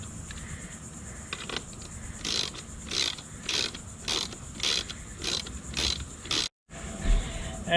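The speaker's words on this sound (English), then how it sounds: "put these ratchets back on and tighten it up" A ratchet tightens the housing of a 12-volt in-ground pool light in short bursts of rapid clicking, about eight strokes with brief pauses between, close and clear, with a sudden dropout near the end.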